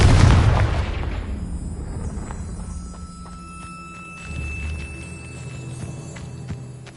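A Confringo fire spell blast in Hogwarts Legacy, one loud booming explosion up front that rolls off into a long decaying rumble, with faint crackling debris and a lighter thud later, no talk.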